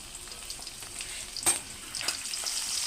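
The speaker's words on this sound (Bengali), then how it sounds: "তেল গরম হয়ে গেছে, দিয়েছি তেজপাতা। এখন দেবো পেঁয়াজ কুচি" Chopped onion dropped into hot oil with a bay leaf for a boal fish curry, giving a steady close sizzle with a few sharper crackling bursts, no voices.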